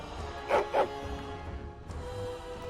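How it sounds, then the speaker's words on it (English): Two quick dog barks from the Dragon Age: Origins video game, close together near the start, followed by a low ambient game hum with no talk. "I just wanted to go play with the dogs."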